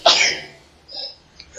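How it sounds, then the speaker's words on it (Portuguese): A single loud, close sneeze bursts out at the start, followed by a softer breathy exhale and faint rustling as it dies away. "Vou espirrar."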